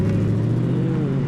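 A Ford Mustang's engine rumbles steadily with a deep, continuous drone as the car passes nearby on a residential street in Peterhead, Scotland, heard alone without talk.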